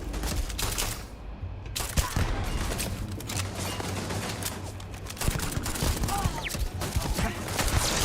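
Turret fire in the video game Starfield: a dense, steady fusillade of rapid gunshots rattling on without pause, loud and close, mixed with other combat noise.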